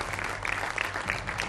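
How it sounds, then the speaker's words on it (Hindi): A studio audience of young law students claps steadily in a continuous patter of applause, with a few brief louder bursts throughout. "तालियों के साथ बहुत सारा स्वागत आप सभी युवाओं का।"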